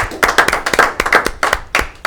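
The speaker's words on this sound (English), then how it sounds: "There's a round of applause for Gary," A handful of people clap for Gary on a local evening show, giving sharp, distinct claps in an uneven rhythm over about two seconds rather than a full crowd roar.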